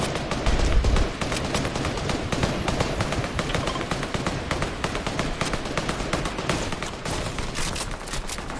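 Sustained automatic gunfire sprays at players in a shooter video game, a dense, continuous rattle of rapid shots that stays loud and unbroken throughout.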